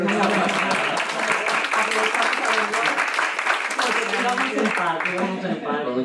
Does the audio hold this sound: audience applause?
yes